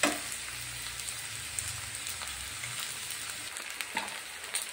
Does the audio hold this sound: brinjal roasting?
yes